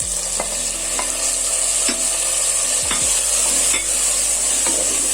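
Tempered onions, tomatoes and green chillies fry loudly in a pan, a strong continuous sizzle with a few distinct scrapes of a spoon stirring, and no voices.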